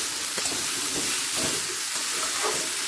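Potatoes, carrots, beans and peas hit a pan of fried cauliflower with a steady, loud, even sizzle and hiss that runs without a break.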